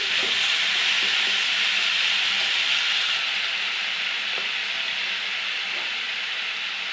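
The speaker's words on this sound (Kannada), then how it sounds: "ಇದನ್ನು ಎಣ್ಣೆಯಲ್ಲೇ ಚೆನ್ನಾಗಿ ಒಂದು 2 ನಿಮಿಷ ಫ್ರೈ ಆಗಲಿ" Elephant foot yam (suvarna gadde) pieces frying in hot oil, a constant close hiss and sizzle that holds steady and eases slightly toward the end, with faint occasional spoon taps.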